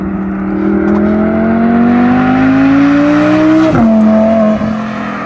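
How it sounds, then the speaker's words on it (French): Audi R8 V10 supercar with a Milltek exhaust, heard from outside: a loud, close engine drone climbs steadily in pitch, then drops sharply with a downshift blip before settling into a lower, steady note. "Il rétrograde."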